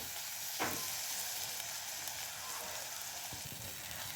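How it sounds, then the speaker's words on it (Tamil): Tomatoes sautéing in a pan for a fish curry, a steady bright sizzle with a couple of faint utensil taps, close and continuous, no talking. "தக்காளி நல்லா வதங்கட்டும்."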